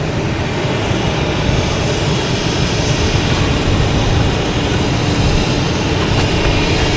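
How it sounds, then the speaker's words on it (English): British Airways Airbus A330-900 arriving at Boston Logan from Rome, a loud, dense, continuous jet roar filling the whole stretch, steady and close with no talk. "British Airways in the line. A330 900, flight 113 coming in from Rome."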